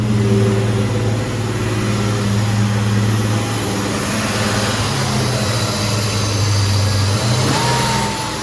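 A 1995 Chevrolet Impala SS engine on a hot start with a sticky throttle, running on its own with no throttle input: a loud, steady, close drone whose revs shift briefly and then climb near the end.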